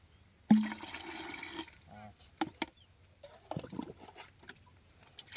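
Water splashes and gushes as spray bottles are rinsed out during preparation of a crop spray for a lentil field, a loud rushing burst followed by smaller sloshes and knocks.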